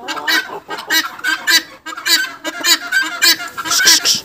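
Farm poultry, including guinea fowl, turkeys and chickens, call loudly and close by in a continuous chorus of honking, clucking squawks with barely a pause.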